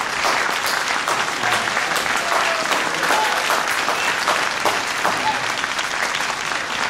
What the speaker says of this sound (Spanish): un aplauso grande a toda esta gente tan maravillosa que está aquí